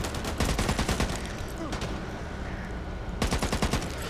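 Gunfire from a weapon in the Back 4 Blood beta: loud, rapid automatic bursts crackle for about a second and a half, a louder rumbling stretch follows, then another rattling burst.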